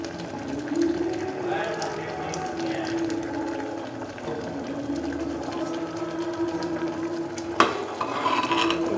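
Dal being stirred in a pot after sugar and a tablespoon of ghee are added, the spoon scraping steadily and softly with a faint cooking sizzle underneath and a sharp clink near the end.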